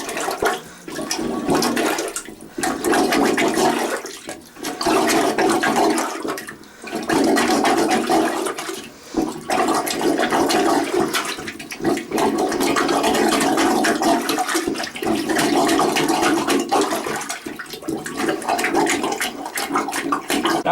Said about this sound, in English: now I'm just going to plunge out as much water as I can in the bowl